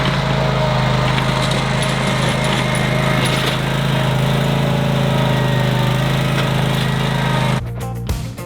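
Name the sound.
Cub Cadet 2X 30 inch EFI snow blower engine running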